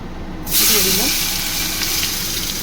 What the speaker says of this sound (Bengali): এই যে টমেটোটা তেলের মধ্যে একটু ফ্রাই করে নিয়েছি